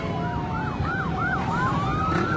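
A wailing emergency siren from a fire truck responding to a warehouse fire on Luzon Avenue, Quezon City, rising and falling in a steady repeating sweep, loud and continuous over dense street and crowd noise.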